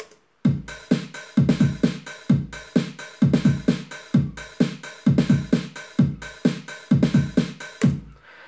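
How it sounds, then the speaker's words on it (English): A basic programmed drum beat in a Streets of Rage–style groove, with steady kick and snare hits and an open hi-hat sizzling on each offbeat, looping evenly and loud with no voices. "I just wanted to start with a basic beat with an open hi-hat on the offbeat"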